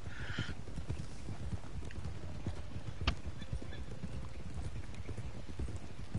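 Hooves of a paint horse clip-clop in a steady walking rhythm in Red Dead Online, close and moderately loud, with a brief whinny near the start.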